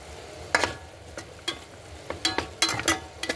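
Amaranth leaves frying in a pan being stirred, giving scattered scraping clinks and soft sizzle bursts at an irregular pace, fairly quiet and close.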